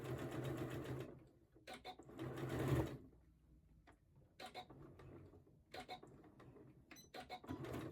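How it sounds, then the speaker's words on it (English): Sewing machine stitching and reinforcing a V shape on Cleo shorts, running in several short bursts with brief pauses between them, close and moderately loud. "So I have the V completely sewn and reinforced."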